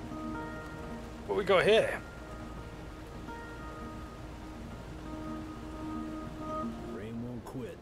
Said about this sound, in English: Rain won't quit, will it, young blood?